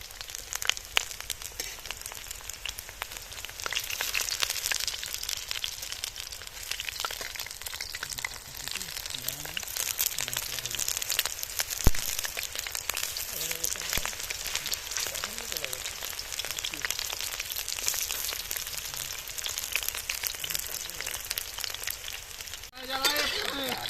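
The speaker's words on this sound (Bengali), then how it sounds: "তো মাংসগুলো আমরা সুন্দর করে ভেজে নেবো, পকোড়াগুলো লাল লাল করে।" Chicken pakoras deep fry in hot oil, giving a constant crackling sizzle that runs throughout at moderate volume, with voices talking over it now and then.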